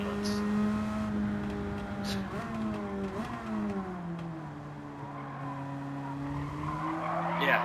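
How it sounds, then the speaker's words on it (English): Car tires squealing in long, wavering skids while spinning donuts on the Trial Mountain track in a racing video game; a steady, fairly loud screech that bends in pitch, with engine hum beneath. "It's just gonna start doing donuts."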